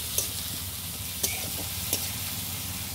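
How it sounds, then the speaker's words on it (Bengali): Onion and garlic paste frying in a pan with salt and turmeric: a constant close sizzle, broken by three brief scrapes and clinks of a spatula as it is stirred, with no speech. "পেঁয়াজ রসুন ভাজা ভাজা হয়ে গেছে"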